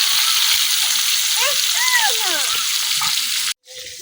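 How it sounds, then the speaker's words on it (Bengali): Pangas fish frying crisp in hot oil in a village kitchen, a continuous close sizzle with brief whistly squeaks partway through, cutting out abruptly near the end before resuming more quietly. "মাছগুলো আমি কড়া করে ভাজা দিচ্ছি,"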